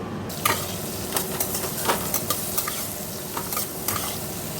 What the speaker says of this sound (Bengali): এই যে বেগুন দিয়ে মেথি শাকটা ভাজা বসিয়ে দেবো